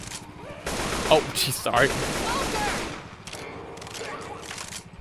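Rapid bursts of gunfire in the Left 4 Dead level The Passing crackle densely for several seconds, loud and close, then thin out, with a player speaking briefly over them.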